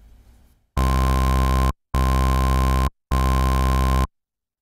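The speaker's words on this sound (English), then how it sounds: "This will simply give us a single frequency at a higher pitch" Three sustained Sylenth1 synthesizer bass tones of equal length separated by short gaps, with a bright, pure high-pitched sine wave layered over the rich lower notes.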